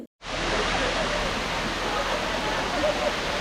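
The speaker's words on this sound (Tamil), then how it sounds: "மேல இருக்க இந்த அருவிலேருந்து வழிஞ்சு வர நீர் இந்த வழியா தான் மெயின் அருவிக்கு போகுது" Water at Katoomba Falls in the Blue Mountains cascades down toward the main falls, a loud, close, constant rushing roar that starts abruptly and holds steady throughout.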